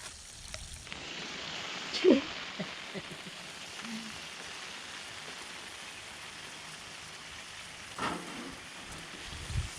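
Steady rain pours down on an outdoor cooking spot where the stove sits under a separate roof, a constant close hiss with a few louder splashes and knocks.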